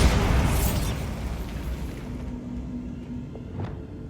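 A Bombarda spell blast in Hogwarts Legacy: one loud, close explosive burst at the start that decays into a rumbling tail and fades over a few seconds, with a faint tonal hum lingering.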